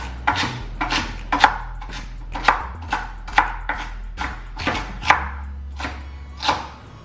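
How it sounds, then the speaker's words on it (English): Celery stalks chopped with a knife on a board: about a dozen sharp, evenly spaced cuts with a low hum underneath, close and clear, with no talking. "Next, I'm going to cut the celery stalks"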